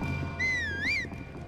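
A whistle in the video game Breath of the Wild, one clear pitched tone that wavers and rises in a short curling phrase over faint game ambience, no talk.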